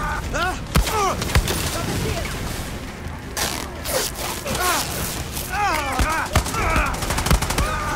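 Gunfire in the shooter game Far Cry 6, sharp repeated shots and bursts scattered through the stretch, fairly loud, mixed with other combat noise while someone talks excitedly over it.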